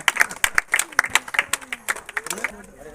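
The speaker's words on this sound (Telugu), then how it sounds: "క్లాప్స్." An audience at a village rangoli (muggulu) competition claps for prize winners, a scattered run of sharp, irregular claps from a small crowd, loud and close, thinning toward the end.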